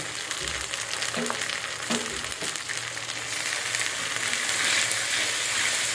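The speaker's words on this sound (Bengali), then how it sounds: "এটাকে আগে ভেজে নিব না হলে পরে একটা গন্ধ আসে" A paste of ground almonds, pistachios and poppy seeds fries in hot oil for biryani. A constant close sizzle runs throughout, with a few soft stirring knocks early on and no voices.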